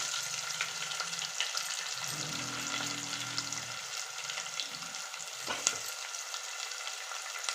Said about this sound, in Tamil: இப்போது நம்ம வெங்காயம் போட்டுக்கலாம்.